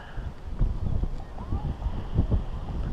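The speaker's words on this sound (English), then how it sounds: "Wind's blowing." Wind buffets outdoors at altitude near a rock formation, a steady low rumbling gust noise close on the microphone, with people talking faintly underneath.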